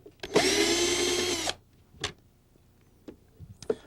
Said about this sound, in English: to disassemble the top half, you have to remove the screws